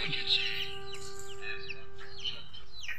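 Chicken clucks and soft peeping chirps scattered throughout, with a steady high tone underneath; no talking.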